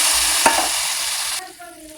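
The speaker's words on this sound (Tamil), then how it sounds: "தண்ணி நல்லா கொதிச்சு வருது பாருங்கள்" Water heats toward a boil in a pan for paneer biryani, a loud, hissing, bubbling wash that cuts off abruptly partway through and leaves a quieter, fainter simmer.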